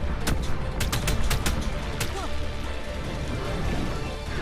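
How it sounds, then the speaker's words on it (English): Projectile spears shot from a creature's face in the video game Ark Survival Evolved, a burst of sharp cracking impacts in the first two seconds, fairly loud over a rumbling game background. "it's shooting, like, spears out of its face"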